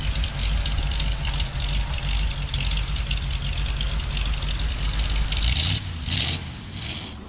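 A Chevrolet Malibu muscle car engine idles steadily close by, a deep, continuous low rumble with a slight uneven lope, holding at a constant loudness before easing off a little near the end.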